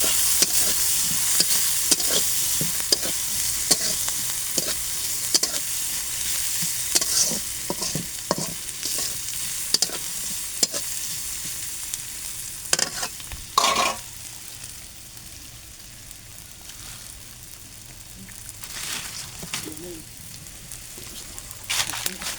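Oil sizzles and spits in a pan while boiled chickpeas and potatoes are cooked, a continuous close frying hiss broken by scattered pops and stirring clatter that eases off toward the end.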